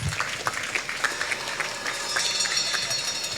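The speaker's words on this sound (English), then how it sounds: "A better round of applause, please." Applause from the audience at a college of education convocation ceremony: a steady, dense wash of clapping lasting several seconds, fairly distant and even in level, with no talk over it.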